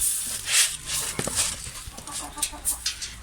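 Chickens cluck softly and intermittently close by while being fed wheat under a shelter, with a few rustles and small thuds in the background.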